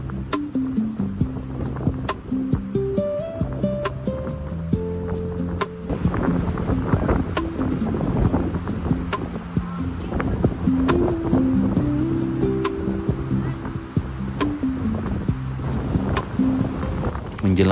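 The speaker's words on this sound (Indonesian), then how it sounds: "semakin sore angin justru bertiup semakin kencang" Strong wind blowing at a family campsite, gusting steadily and loud against the microphone, with rumbling buffets and flapping noise throughout and no voices.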